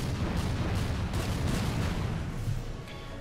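Torpedo launches in the naval wargame Order of Battle Pacific play as a loud, continuous rumbling roar of heavy firing that holds steady for several seconds before easing off slightly.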